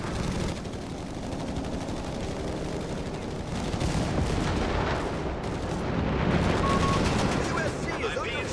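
Sustained battle din from Company of Heroes 3 on an Italian beach landing map: dense gunfire and explosions rumble continuously, thickening toward the end, with game voice lines faintly mixed into the chaos.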